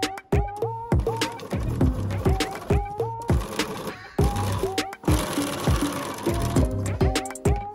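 Sewing machine stitching a straight stitch on a smock top, a close run of rapid rhythmic mechanical clatter in short repeated bursts with brief pauses between them.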